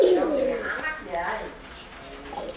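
Silver-grey racing pigeons coo in low, soft bursts at close range, with a person talking over and around the calls.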